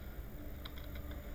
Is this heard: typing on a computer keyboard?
yes